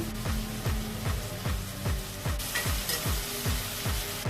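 Onions salted in a hot pan sizzle steadily while a spatula sweeps through them in a regular rhythm, each stroke giving a short scrape over the constant frying hiss, close and fairly loud.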